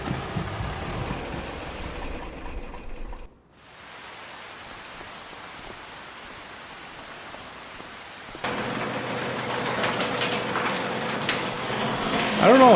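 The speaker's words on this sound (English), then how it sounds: "there the rain's starting" Rain starting in Farming Simulator 25 on a Louisiana farm, played on PS5: a steady hiss of rainfall that briefly drops away, then returns louder and denser, pattering more heavily toward the end.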